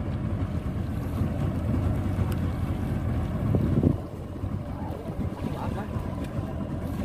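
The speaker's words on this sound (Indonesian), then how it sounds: "Dan sang kapten terpaksa menyalakan mesin untuk mengejar ikan." A fishing boat's engine runs at sea while the crew chases a hooked diamond trevally during light jigging. The low, steady drone is heard up close, mixed with constant wind buffeting.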